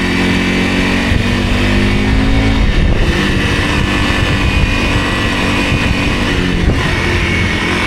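A 300 Rally dirt bike roars steadily while being ridden off-road over bouncy terrain, its engine loud and close with no letup.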